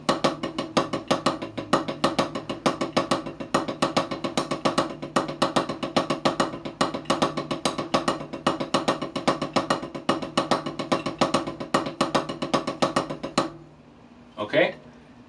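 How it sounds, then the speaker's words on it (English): A drum double paradiddle played as a rapid, steady stream of stick strokes with accents on notes one, three and four, continuing evenly for about thirteen seconds before it stops and a brief noise follows. "So repeat, number 1, 3, and 4, and that would sound something like this."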